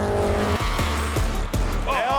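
Race cars in a Toyota Gazoo Racing Australia series brake hard into a corner, with tyres squealing and skidding over loud engine roar and downshifts. The sound is close and continuous, and commentary runs over it.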